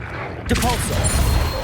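Depulso repelling spell cast in Hogwarts Legacy: a sudden burst of magical energy after a quiet start, followed by a sustained crackling, whooshing swirl that stays loud to the end.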